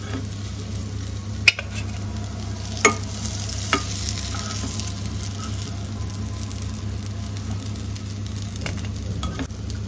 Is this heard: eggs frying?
yes